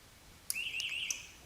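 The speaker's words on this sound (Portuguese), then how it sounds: "a sirene dá um bip" An electric fence energizer's siren gives a single short electronic beep on activation: a brief high-pitched tone with a few sharp clicks, heard alone over a quiet background.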